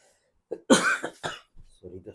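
A man coughs close to the microphone in a couple of short harsh bursts, followed by a little throat clearing, with a brief murmur of speech at the end.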